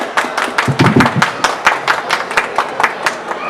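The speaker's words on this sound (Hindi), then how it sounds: "यहाँ मौजूद सभी लोग तालियों के माध्यम से इस पल को खास बनाएं" People at a book launch at the World Book Fair clap, a loud, close patter of individual claps with thumps mixed in and a few voices underneath.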